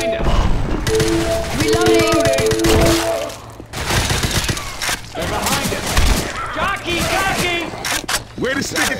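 Rapid automatic gunfire and booming shots from Left 4 Dead 2 in Realism Expert mode with a default AK-47, loud bursts repeating over several seconds alongside clanking weapon mechanics and shouted voices.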